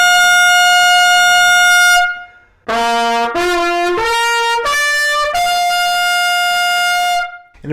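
A scout bugle plays clear, loud brass notes: one held tone, then several short notes stepping upward, then another long sustained tone, with brief silence between phrases.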